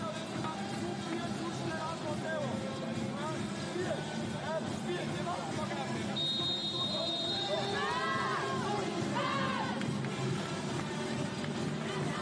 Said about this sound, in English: Chinese crowd